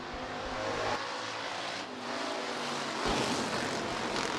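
USRA Hobby Stock race cars roaring off a green flag heat race start at Rapid Speedway, a dense, loud engine drone from the pack that swells and surges, with no talk.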